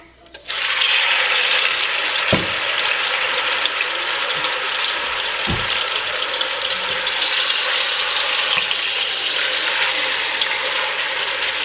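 A shoulder roast searing in a hot pan for Christmas dinner gives a loud, steady, close sizzle that runs almost the whole time, with a couple of low knocks as the meat or pan is shifted.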